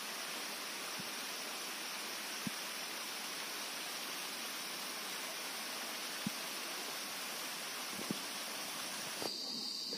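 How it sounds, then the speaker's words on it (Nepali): A distant waterfall along a hillside trail between Borangkhola and Udee village in Nepal gives a faint, steady broadband rush of falling water, with a few soft knocks and no voices. "पानीको झरना,"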